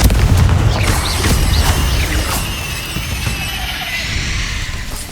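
Confringo spell explosion in Hogwarts Legacy, a loud, close boom with a rumbling low end, followed by crackling debris and whooshing bursts that fade out over several seconds.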